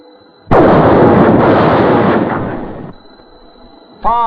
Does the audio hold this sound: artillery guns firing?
yes